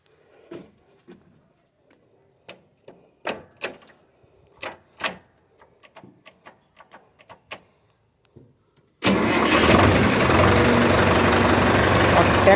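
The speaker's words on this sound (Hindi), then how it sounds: "ट्रैक्टर को स्टार्ट कर देना है।" A tractor engine cranks and catches at about nine seconds, then settles into a loud, steady idle that runs to the end. Scattered clicks and knocks come before the start.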